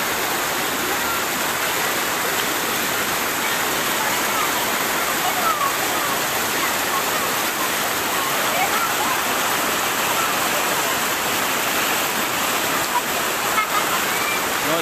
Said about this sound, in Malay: Airnya begitu deras, Saudara Lun.